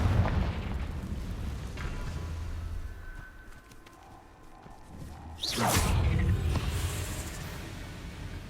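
A Confringo fire spell from Hogwarts Legacy bursts with a sudden loud whoosh and boom about midway, following a rumbling, quieter stretch, then a sustained roaring tail.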